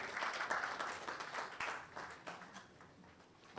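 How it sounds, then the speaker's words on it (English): Ceremony audience at a National Science and Maths Quiz balloting event welcomes a guest with applause, a moderately distant, even wash of many hands clapping that holds steady and tapers slightly toward the end. "Let's welcome her with a round of applause."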